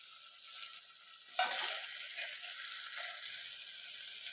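Curry leaves drop into hot oil with crushed ginger, garlic, green chilli and shallots for a chicken curry, setting off a sudden sharp crackle that settles into a soft, steady sizzle and fry, fairly quiet and without talk.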